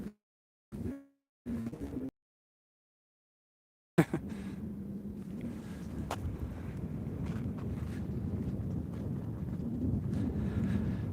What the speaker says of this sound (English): It's seriously windy.